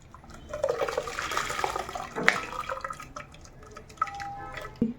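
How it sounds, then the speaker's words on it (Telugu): Running water splashes irregularly as a mixer-grinder jar is rinsed in a kitchen sink during spiced buttermilk preparation. The sound is soft and close, with scattered drips and gurgles. "మిక్సీ జార్ అంతా బాగా కడిగేసి"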